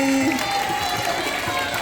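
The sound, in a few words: audience applause at Maulid Nabi event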